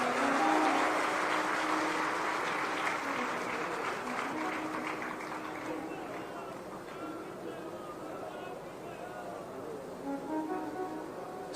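A large audience at a public meeting claps loudly and continuously. The dense applause fades slightly midway while a voice carries on over it.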